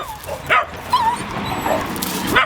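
Excited dog whimpering and yipping in short high-pitched bursts while out for a walk, the eager cries coming near and fairly loud against light outdoor background noise.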